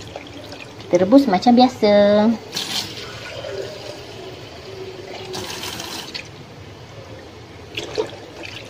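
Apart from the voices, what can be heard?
water poured into pot for boiling eggs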